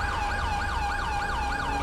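A fire engine siren in the video game GTA5 wails in a fast, regular up-and-down cycle, loud and close, over a low engine rumble with no talk.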